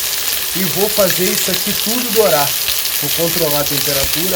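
Chicken wings and pieces of carcass browning in hot vegetable oil give a loud, steady sizzle and crackle under someone speaking Portuguese nearby.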